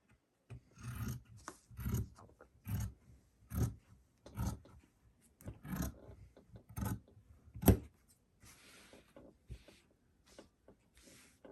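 Scissors cut through fabric for a bunny hat in a run of short, close snips and rasping cuts, roughly one a second, then quieter rustling at the end.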